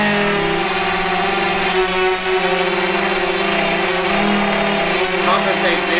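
Steady whirring of small electric motors on a ball-balancing machine, a continuous mechanical hum with tonal bands, running evenly throughout without pause.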